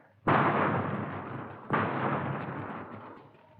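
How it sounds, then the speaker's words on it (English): Gunfire in an old 1955 police radio drama siege scene: two sharp, loud bursts of shots, each with a long rumbling decay, the second following about a second and a half after the first, with no talk over them. "Here's a machine gun, Joe"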